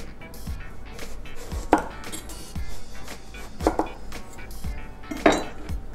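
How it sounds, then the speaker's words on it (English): A knife slices through aubergine on a cutting board in three distinct, evenly spaced thuds with crisp cutting noise, close and fairly loud, no speech. "Meanwhile, I'm gonna slice some aubergine and season them about 1 centimeter thickness."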